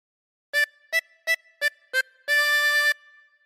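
A harmonica plays the second phrase of Oh Susanna alone: five short, clean notes in an even rhythm, followed by one longer sustained note, close and clear against silence.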